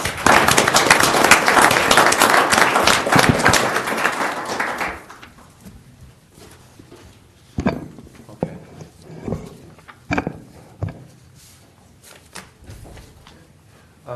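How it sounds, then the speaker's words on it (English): An audience at a county board of commissioners meeting applauds honorees with loud, dense clapping for about five seconds, then it fades into room noise with scattered thumps and shuffles. "join me one final time in a round of applause for all our honorees"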